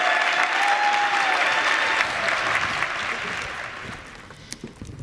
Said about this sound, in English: get on your feet and give them a warm round of applause